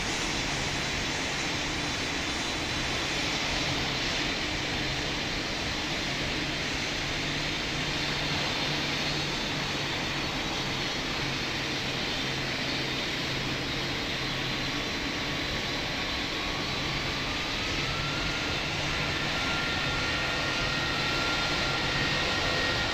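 Airliner jet engines spooling up for takeoff in the Roblox flight simulator game Pilot Training Flight Simulator, giving a steady, loud broadband roar with a low hum that holds for the whole stretch.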